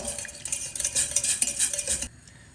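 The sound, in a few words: whisking milk into a sauce mixture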